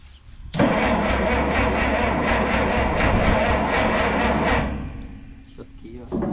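A rare old tractor that has not run for years cranks steadily for about four seconds, with a rapid even chugging rhythm, loud and close, then stops without the engine firing.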